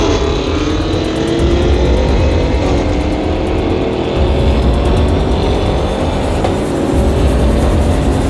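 A Range Rover accelerates hard from a standstill toward 60 mph, its engine roaring loudly with rising pitch through several gear changes, heard close and alone without any talking.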